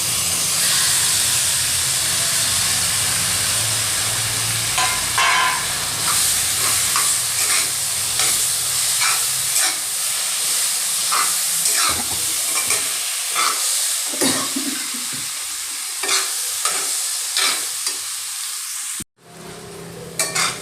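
Mashed roasted eggplant bharit frying in a pan, a loud steady sizzling hiss with frequent scraping strokes of a spatula, close and continuous, ending in a brief dropout near the end.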